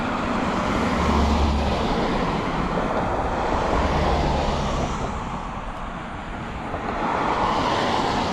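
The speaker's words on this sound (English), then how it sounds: "There's a lot of cars, so we gotta wait till these cars go by." Cars drive past on a suburban street near a shopping center trail, a continuous roar of passing traffic with swells as vehicles approach and recede, fairly close and steady, no talk.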